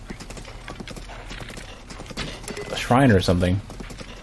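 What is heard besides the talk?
horse hooves clip-clopping in video game Zelda: Breath of the Wild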